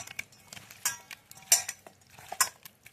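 Marinated chicken for a curry being mixed in a bowl with a spoon, giving irregular close clinks and scrapes of metal on the bowl, three sharper knocks standing out among softer stirring noises, with no talk.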